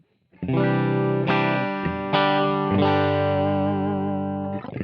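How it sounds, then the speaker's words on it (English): A clean, dry electric guitar plays a few sustained chords, each strum ringing out clearly with no talking. "This is what no effects on guitar sounds like"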